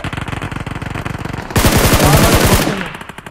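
Rapid automatic gunfire from a BGMI / PUBG Mobile battle, with steady bursts of shots that swell into a loud, dense volley near the end before cutting off.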